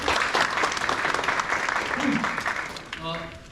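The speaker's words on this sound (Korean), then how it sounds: "다시 한번 박수 부탁드리겠습니다" Applause from the audience at a National Assembly policy forum on fast-tracking reconstruction in Nowon, a steady dense clapping that gradually fades, with a few voices rising near the end.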